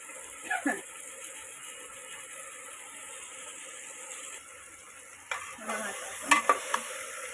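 Peas, potatoes and other vegetables being stirred in a pan for a curry, soft scrapes and a low sizzle with a few brief clatters, faint and close, plus a couple of sharper knocks near the end.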